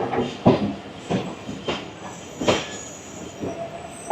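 Sir Syed Express train rolling past Bahawalpur railway station, with rhythmic wheel clatter and repeated rail-joint thumps sounding close and steady throughout, no voices.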